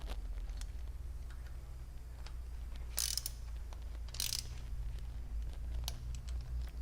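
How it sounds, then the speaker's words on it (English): Bolts on the bottom plate of a Model 461-57S regulator are tightened, giving quiet, close ratchet clicks in short bursts over a low steady hum. "Ensure that the tetraseal is intact on your bottom plate. And tighten your bolts."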